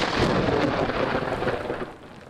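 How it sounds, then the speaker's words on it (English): A loud crack and rumble of thunder during a summer rainstorm in suburban Detroit, with the broadband roar holding steady for about two seconds and then easing slightly as heavy rain continues. "they heard that crack of that thunder"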